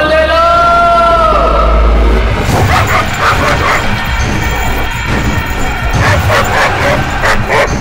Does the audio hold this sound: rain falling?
no